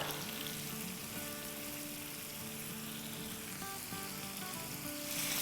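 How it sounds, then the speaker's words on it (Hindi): Chicken keema sautés with onion and salt in a hot pan, producing a loud, continuous close sizzle with a faint underlying hum and occasional stirring shifts, no voices heard. "इसको बस हल्का फुल्का 30 सेकंड सौटे करेंगे"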